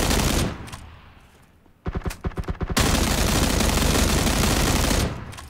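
Automatic gunfire from a weapon in the PUBG video game: a rapid burst of about eight loud shots, followed by sustained, dense firing and noise that continue almost to the end.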